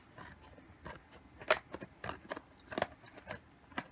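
Scissors snip through the cardboard of a My Little Pony blind box, giving a series of sharp, close cuts in an irregular rhythm with short gaps between them.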